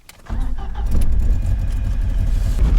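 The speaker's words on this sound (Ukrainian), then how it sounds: "Він непогано набирає, до речі особливо з низьких оборотів." A Ford Sierra car's engine accelerates: a loud, close, low mechanical rumble rises sharply and then holds a steady, strong drone. No talking.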